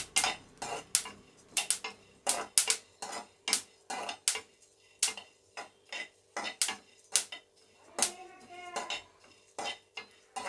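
Dry fruits crackling in a hot kadhai with the gas turned off while making panjiri, giving sharp, irregular pops and clicks spaced through the clip over a quiet background.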